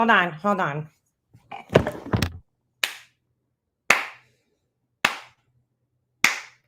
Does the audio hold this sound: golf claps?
yes